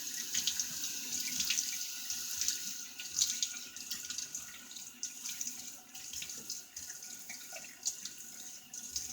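Tap water runs steadily into a sink as a face is wetted before a wet shave, a continuous close splashing hiss with small drips and no talking.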